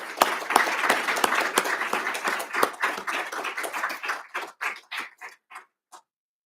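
An audience applauds an award recipient at a military honors ceremony, the clapping dense at first and then thinning out to scattered individual claps that fade to silence.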